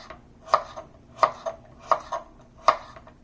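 A knife chops garlic lengthwise on a cutting board, four evenly spaced, sharp, close-up knocks with softer small taps in between, alone without talk.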